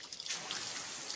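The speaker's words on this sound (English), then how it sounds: "When this is the sound of a waterfall in nature" Rushing waterfall water in an advert, a steady broadband wash of splashing and trickling, moderately loud and alone.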